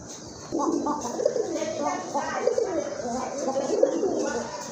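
Large Rajgolla pigeons coo nearby in low, throaty, rolling calls that repeat steadily throughout.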